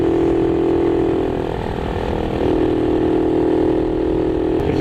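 A Honda C90 motorcycle engine runs steadily at three-quarter throttle, a loud, continuous buzzing drone that dips briefly in pitch partway through and then holds even again, with no talking.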